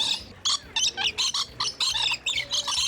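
Loud birds at the Long Beach Aquarium squawk and chirp in quick repeated bursts, about a dozen sharp calls in a few seconds, close by, with no talk over them.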